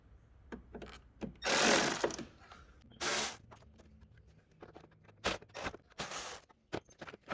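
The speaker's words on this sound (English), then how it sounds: "So I'm going to take out both screws." A ratchet clicks in several short, sharp bursts as screws are removed from the radiator of a 2006 Audi A3, with quiet pauses and faint handling between the bursts.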